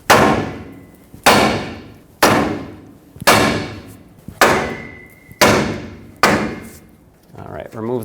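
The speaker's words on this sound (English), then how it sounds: "now hammer right here, and that should break this tie rod free from the stud" Seven heavy hammer blows strike a tie rod stud on a 2011-2016 Ford F-350 at a steady pace, each a sharp clang that rings briefly before the next.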